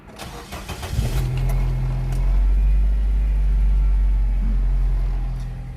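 A stock 2011 Nissan Grand Livina 1.8 Impul MPV with 232,000 km cranks and fires up close by, then settles into a steady, low idling rumble.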